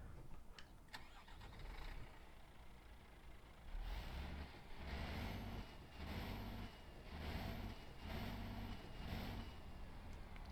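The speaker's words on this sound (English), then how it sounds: "let's start this truck up and see how it sounds" A truck engine in Euro Truck Simulator 2 cranks and starts, then settles into a steady, rhythmic idle with a pulsing low rumble, heard alone with no voices.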